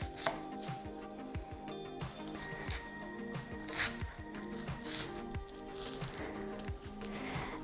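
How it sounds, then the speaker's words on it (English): A knife dices an onion on a cutting board, a quick even run of close crisp chops and thuds with a few pauses, no talking. "for our onion, we're gonna wanna dice it"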